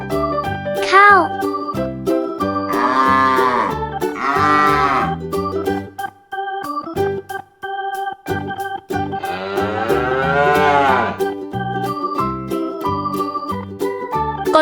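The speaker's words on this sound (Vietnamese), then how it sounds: "Cow." Repeated cow moos, long and loud with sweeping pitch, over cheerful jingling children's music, with a brief high voice at the start.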